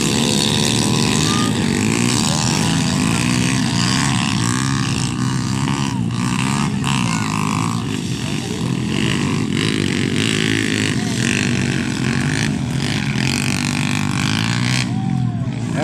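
Small Honda XRM motorcycles racing on a slippery enduro course, with engines droning and whining continuously close by as they rev, overlapping throughout.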